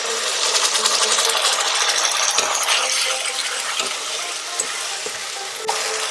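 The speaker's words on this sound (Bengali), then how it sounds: "মশলার পেস্টটা দিয়ে দিচ্ছি।" Spice paste sizzles loudly in hot oil with fried onion in a pan for raw jackfruit and prawn curry, a dense steady crackle with a few sharp clinks of a utensil against the pan.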